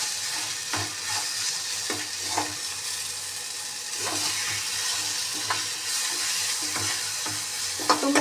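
Water spinach (kalmi shak) sizzles steadily in a pan, with a spatula scraping and stirring it at intervals of roughly a second, close and continuous throughout.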